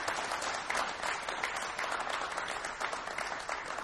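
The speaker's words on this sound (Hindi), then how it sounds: "मेरी इस बात पर ताली बजानी चाहिए" An audience at a poetry event claps in steady, dense applause, a continuous even wash of many hands heard at a moderate distance with no voices over it.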